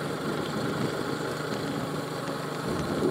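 Motorcycle engine running on a highway under a cloudy sky, a steady low idling rumble, fairly faint and continuous, with no talking.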